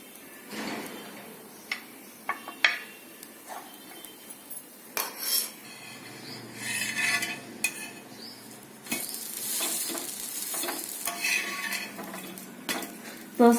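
Masala mixture stirred in a pan for dosa, with scattered scraping and clinking of a utensil against metal over a soft sizzle, growing busier and more continuous toward the end.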